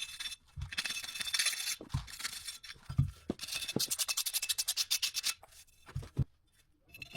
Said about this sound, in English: Clean the inside of the brake disc.